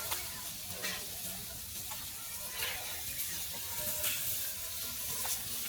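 Fish frying in hot oil, a soft, continuous sizzle with faint crackles throughout, heard close but fairly quiet, with no talk over it.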